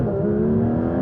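Porsche GT3 RS engine revving up through its rev range, a loud, close, steady rising mechanical roar with strong harmonic tones climbing in pitch, alone without voices.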